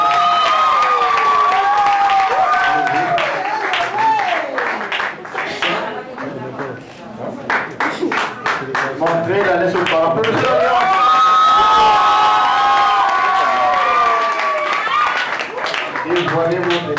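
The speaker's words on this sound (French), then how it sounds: "Applaudissez l'alliance." A wedding crowd cheers and claps amid lively chatter and shouting, with scattered whoops; the noise stays loud and busy throughout.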